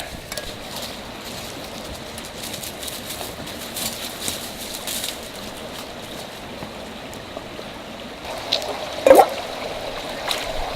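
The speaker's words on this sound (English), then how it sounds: "I'm going to run over to the stream and grab some water." Shallow outdoor stream trickling and burbling steadily at a campsite, a soft continuous flow with a brief louder splash near the end as water is fetched.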